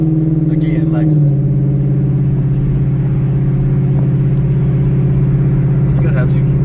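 A supercharged Lexus RC F engine heard from inside the car during a ride along: a loud steady drone that drops in pitch after the first second, then holds a constant hum beneath bits of talk.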